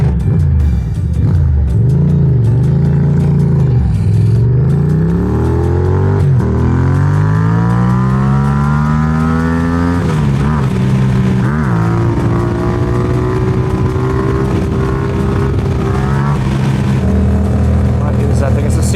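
A small Honda CBR motorcycle passes nearby, its engine loud and revving, with pitch sweeping up and down through gear changes as it goes by.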